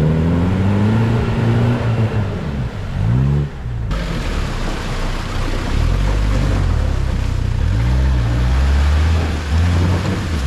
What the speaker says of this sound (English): It's like first gear, just kind of idle.